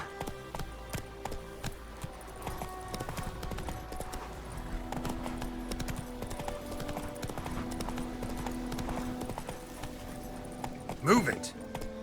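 Roach galloping in The Witcher 3: Wild Hunt, a fast, even clatter of hooves running throughout under game ambience and occasional speech, with a louder burst near the end.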